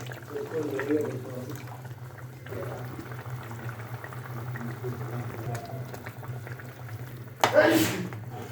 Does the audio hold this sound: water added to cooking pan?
yes